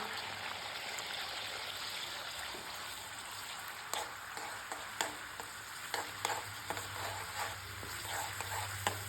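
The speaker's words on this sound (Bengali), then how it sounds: "পেঁয়াজটাকে এবার আমি গোল্ডেন ব্রাউন করে একটু ফ্রাই করে নেব" Finely chopped onion fries in hot oil with cinnamon and a cracked cardamom pod for a chicken and potato curry, a steady close sizzle with scattered small pops and stirring, no voices.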